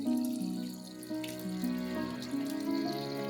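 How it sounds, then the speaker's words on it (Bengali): Mutton pieces are rinsed with water in a bowl, giving loud, close splashing and sloshing with running tap water and a few gurgling shifts in pitch. "দেখুন, ঠিক এইভাবে মাংসগুলোকে আমি ধুয়ে পরিষ্কার করে নিচ্ছি।"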